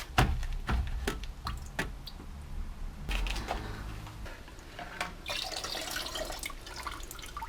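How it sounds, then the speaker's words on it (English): Coolant dripping and splashing out of a radiator being worked on a BMW E46, with irregular nearby drips and spatters, a few sharp knocks, and a wetter trickling burst toward the end, no voices. "Try and get that radiator coolant shaken out before we proceed."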